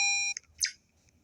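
An electronic beep from an animal hospital video game as text is typed in: one steady sustained tone, then a couple of short bright chirps, close and alone.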